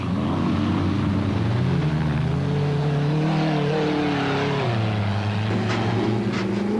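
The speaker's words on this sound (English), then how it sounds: "Class B leader Gavin Gray, Robin Gareth Walk, Craig Harvey, and a gaggle of cars all mere seconds apart." Rally cars race bunched closely together in the 2001 Sugarbelt 400, engines droning loudly and continuously, pitch rising and falling as they accelerate and shift, with no voices over the noise.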